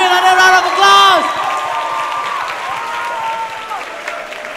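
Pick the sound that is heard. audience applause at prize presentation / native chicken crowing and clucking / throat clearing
audience applause at prize presentation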